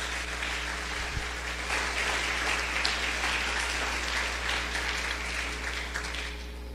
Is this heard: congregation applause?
yes